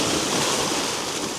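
Sea waves washing over rocks on the Dunstanburgh coast, a steady broadband rush of surf and spray filling the whole moment, close and continuous with no voices.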